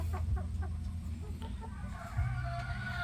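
A grey Paul Spark pullet clucks nearby in a short burst of soft, low clucks and murmurs, with faint bird chirps in the background.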